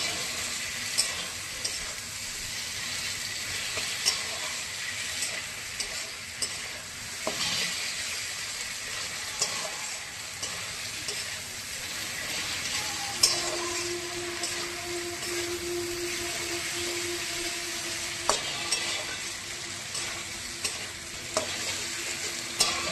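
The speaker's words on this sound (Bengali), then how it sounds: "টমেটোগুলো নরম হয়ে যাবে তাড়াতাড়ি। এবার নাড়াচাড়া করতে থাকবো।" Tomatoes fry in a pan under a steady broadband sizzle, with scraping stirs coming through every few seconds; a faint tonal hum rises partway through, and nobody speaks.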